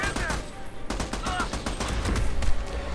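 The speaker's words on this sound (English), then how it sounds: "The gun that I'm using right now is the AUG" Continuous rapid automatic fire from a fully upgraded AUG rifle in the Army of Two video game, loud and dense over three seconds, with a voice faintly underneath.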